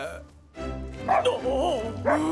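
A cartoon dog in a French-dubbed Fireman Sam episode barks and yips in quick, high, excitable bursts, close and loud over a busy animated soundtrack.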